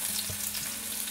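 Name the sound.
onion frying in a pan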